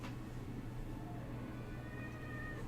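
A cat gives a faint, drawn-out meow over a steady low background hum, with no talking.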